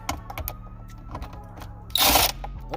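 Removing 10 mm bolts from the dash of a 2016 Toyota 4Runner: a few light clicks and taps close by, then a short burst of ratcheting or rattling, with no talking.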